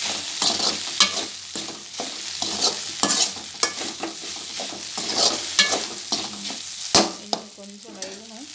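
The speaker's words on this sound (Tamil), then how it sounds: "மிக்ஸ் பண்ணி வச்சுக்கலாம்." Okra gravy being stirred with salt in a pan, a steady sizzle of frying under repeated scraping and clinking strokes of a spoon against the pan, close and continuous with no talking.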